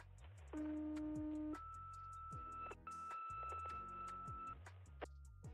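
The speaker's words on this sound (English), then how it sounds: "What you're hearing there are tones" Fire department dispatch tones come over a radio scanner during severe weather emergency operations: a sequence of steady, loud electronic tones that switch pitch, with a ticking static pattern underneath and no speech.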